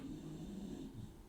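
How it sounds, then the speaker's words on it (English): A 16-year-old Jack Russell terrier snores indoors, a low, rumbling nasal snore held steady and close for a moment, soft and unaccompanied by talk. "Excuse my dog snoring."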